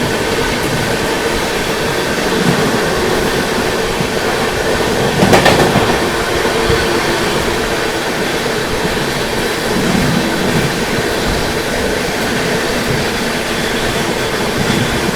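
The Delhi–Kamakhya Brahmaputra Mail passes on the line in rainy weather, a loud sustained rumble with rhythmic clickety-clack of wheels over rail joints and a brief sharper burst midway.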